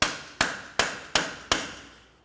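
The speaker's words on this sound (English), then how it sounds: "Continue on with a hammer and punch. We're going to come right in the center of the axle and give it a couple loving bonks." Five sharp metallic strikes of a hammer on a punch against the center of a 2004-2006 Scion xB front CV axle, evenly spaced and ringing briefly, close and loud.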